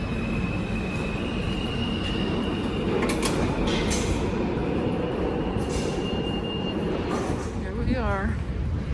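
A nearly empty New York City subway car in motion, with a loud, continuous rumble of wheels on track, rattling clatter, and a sharp squeal near the end, as people talk over it.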